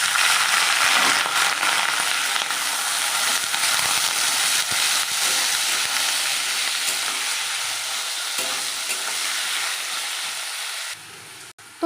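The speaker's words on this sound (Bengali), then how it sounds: "এইবার দিয়ে দেবো আলুগুলো।" Potatoes dropped into hot oil with mustard seeds and dried whole red chillies give a loud, steady hiss and crackle of frying, with scattered pops throughout before it cuts off abruptly at the end.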